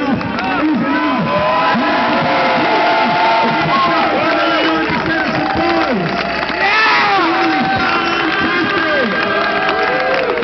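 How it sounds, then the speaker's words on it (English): A large crowd at an Occupy London protest gathering cheers and applauds a choir, a dense, loud, continuous roar of shouting voices and clapping that fills the whole stretch. "can we have a round of applause for the amazing choir tonight?"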